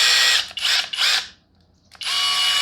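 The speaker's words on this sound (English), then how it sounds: "You guys want to hear the impact?" A Skil PWR CORE 12V impact driver runs close and loud in three short bursts, goes quiet for about half a second, then starts again with a steady sustained whine. There is no talk over it.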